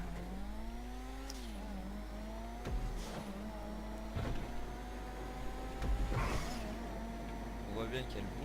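A car engine in GTA 5 revs and drones steadily with rising and falling pitch, with brief bumps and scrapes and a player talking over it.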